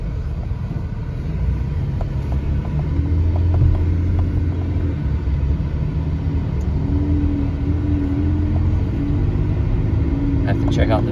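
2011 Chevrolet Traverse on the move, a steady low road rumble and engine drone heard from inside the cabin, continuous and fairly loud throughout.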